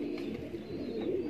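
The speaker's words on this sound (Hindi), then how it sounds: "ये रामपुरी कबूतर जो ओरिजिनल है ये" Original Rampuri pigeons coo softly and steadily at close range, a low continuous murmur of several birds with no talking over it.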